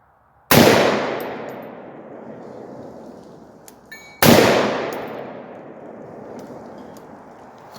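Two loud rifle shots from a Palmetto PA-10 AR-10 with a 20-inch barrel firing Tula 308 ammunition, each a sharp crack followed by a long fading echo, several seconds apart outdoors.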